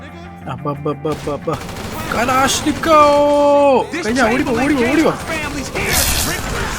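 Gunfire in the video game GTA V: a burst of rapid repeated shots early on, followed by game sound effects and music, with someone talking over much of it.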